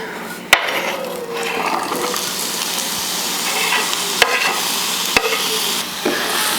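Onion and garlic frying in olive oil in a skillet, a steady bright sizzle with stirring scrapes and a few sharp clacks of a utensil against the pan, close and fairly loud.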